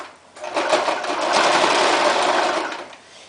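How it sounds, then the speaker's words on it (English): A sewing machine stitches a onesie extender straight across, running in one steady, close, continuous whir for nearly the whole stretch, with no voices. "you're just going to go ahead and start sewing"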